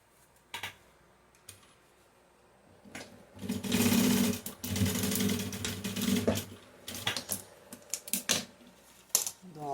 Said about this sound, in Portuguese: E costura. Ó, com a linha na mesma cor.